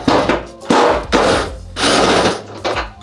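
An extension ratchet works a small 10mm bolt loose on a Toyota Tacoma tailgate, giving close, loud bursts of grinding metallic rasping in several separate strokes with brief gaps between them.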